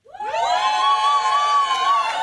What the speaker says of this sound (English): If so, cheer now.